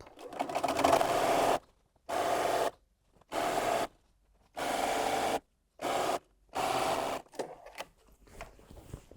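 A sewing machine joins quilt strips in a series of short bursts of fast whirring stitches, broken by silent pauses, close and steady, ending with a few soft handling sounds.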